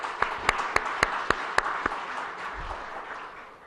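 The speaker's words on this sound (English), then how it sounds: "May I ask all the delegates to give Pakistan and the Honorable Prime Minister a round of applause." Delegates at an Asia Pacific ICT Alliance Awards event applauding Pakistan and its Prime Minister, heard as a short run of sharp, evenly spaced claps over a diffuse hall murmur that fades out.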